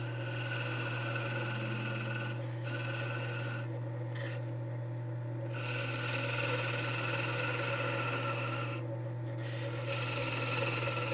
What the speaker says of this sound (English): Starting high, making some bevel rubbing parting cuts.